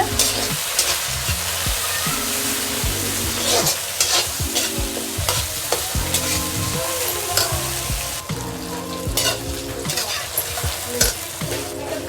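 Tomatoes and onions frying in a pan for white sauce pasta, a constant loud sizzle with steady scraping stirs and clinks of a spatula throughout.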